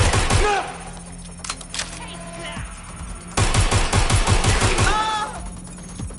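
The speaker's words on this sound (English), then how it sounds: "Suspect shooting!" Bursts of automatic gunfire in Watch Dogs Legion, a quick volley at the start and a louder rapid run of shots in the middle, with game voices shouting between them.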